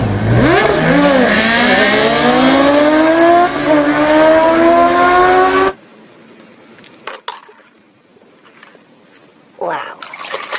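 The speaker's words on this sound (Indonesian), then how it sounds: "sepeda motor" A muddy toy motorcycle's engine sound revs loudly upward in pitch for several seconds, then stops sharply, followed by some quiet handling noises and a short bit of talk.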